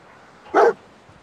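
A dog in the virtual reality game Fallout 4 VR gives a single short, sharp bark, close and clear over a faint background hum.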